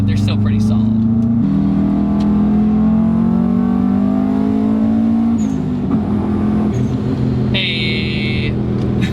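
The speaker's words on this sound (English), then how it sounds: "I mean, who can mistake the HKS blow-off valve though?" A tuned Subaru WRX bugeye with an HKS blow-off valve accelerates hard, its engine droning loud and close as it climbs through the revs, dips at a shift and pulls again, while a voice talks over it.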